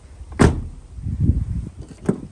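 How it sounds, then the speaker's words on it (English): A door on a crashed 5-litre Holden VT Clubsport, its door card removed, slams shut with a solid thump and a rattle, then a second, lighter door shut follows a moment later. "when you shut the doors, it's probably going to rattle more now because there's no door card"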